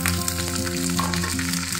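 Chopped Malabar spinach (pui shak) fries in a pan with a steady, close sizzle and faint stirring, against a tonal background.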